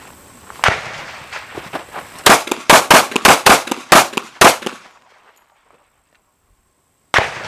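Pistol shots crack out during silhouette-target training, a single report followed by a rapid string of about eight sharp shots, then a pause and one more shot near the end, loud and close with no talk.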